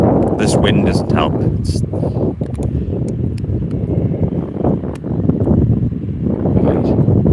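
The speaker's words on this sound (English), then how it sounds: "This wind doesn't help." Wind gusting into the microphone at Faro Airport, buffeting rumbles that swell and ease while someone talks over them.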